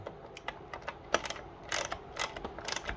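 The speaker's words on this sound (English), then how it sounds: "Tighten one bolt." A ratchet clicks in short bursts while tightening a bolt on a Honda GX160R engine, crisp close metallic ticking in uneven runs with brief pauses between strokes, no talking.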